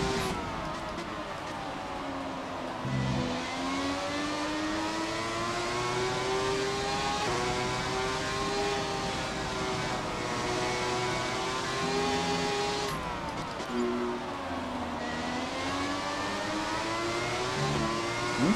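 A Ferrari 412 T2 Formula 1 car in F1 2017 revs loudly and steadily, its high engine note rising and falling through gear changes for a long stretch, with a brief dip near the middle and no talk.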